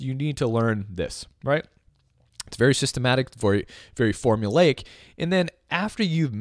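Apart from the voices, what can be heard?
None of the usual background noises is heard.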